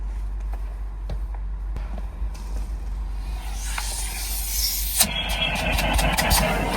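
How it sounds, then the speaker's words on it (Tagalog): A vacuum cleaner runs while cleaning a car, a steady motor drone that swells into a louder rushing hiss partway through, with no talk. "At mag-vacuum tayo, maglinis tayo ng sasakyan."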